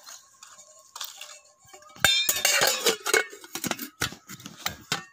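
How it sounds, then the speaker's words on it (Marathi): A metal kamandalu water pot falls to the floor with a sharp clatter, then rings and rattles in a series of bright, close metallic clinks as it settles. "आमचं कमंडलू पडलं खाली"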